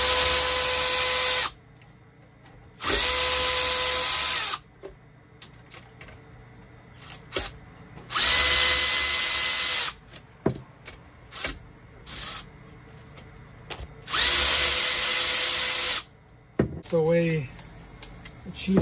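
Power tool whirring in loud bursts as it removes nuts and bolts from a Kawasaki Ultra jet ski, several sustained runs of a couple of seconds each separated by clicks, clanks and handling noises.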